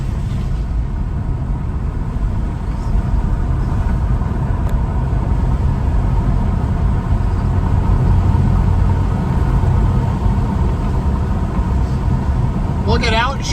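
A 1987 Toyota one-ton pickup with fuel injection drives along with a steady low engine rumble and road noise, close and continuous, with a faint squeal near the end.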